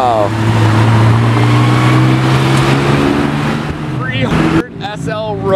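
A Mercedes 300 SL Roadster with side-exit exhaust passes close by, a loud engine note that rises in pitch and fades, with people talking excitedly over it and toward the end.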